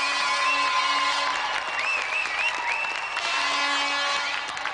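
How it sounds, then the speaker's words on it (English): Studio audience applause for the host and a special guest on a TV games show, a steady wash of clapping heard at a moderate distance, with faint whistle-like tones drifting above it. "let's have another round of applause for Andy Thompson and our special guest,"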